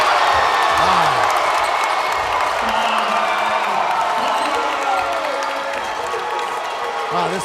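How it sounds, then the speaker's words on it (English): High school basketball crowd in a gym roars on its feet, loud sustained cheering with whoops and clapping, while a voice talks over the noise. "this crowd is on their feet after that highlight reel"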